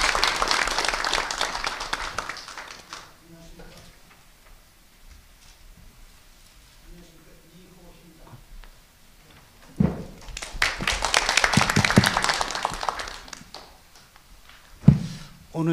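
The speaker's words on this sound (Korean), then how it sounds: "박수로 맞이해 주시면 감사하겠습니다" Conference audience applauding to welcome a speaker at a Korean science and technology policy forum, one burst of clapping at the start, a quiet gap with faint talk, then a second round of applause with a sharp thump near the end.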